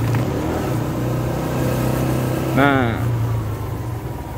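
Cars and motorbikes passing along a street on the outskirts of Jakarta, a steady engine hum with one rising rev, heard under nearby talk.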